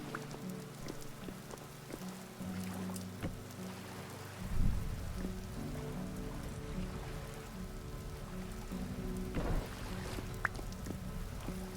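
Rain in the survival game Vintage Story falls as a steady, soft wash of patter, with low ambient tones and a few brief louder splashes, and no talking.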